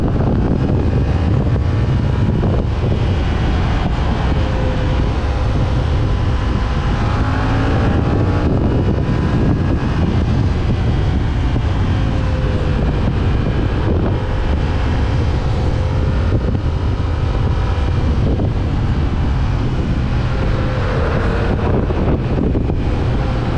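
A 2024 Yamaha MT-07 700 cc motorcycle accelerating hard on the road, a loud, continuous engine roar with rising pitch sweeps, heavily buffeted by wind noise throughout, no talking.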